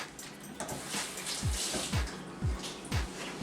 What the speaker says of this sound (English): Then I would wash my hands.